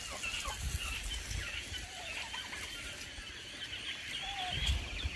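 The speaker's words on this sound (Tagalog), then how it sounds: "Mga pabo" A flock of turkeys and other fowl make squealing, clucking calls mixed with short gobbling bursts, a busy, steady barnyard chorus heard up close.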